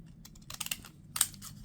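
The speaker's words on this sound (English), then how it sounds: "use these scissors and" Scissors snip through a small piece of paper in a short cluster of crisp cuts, close and fairly quiet over a low background hum.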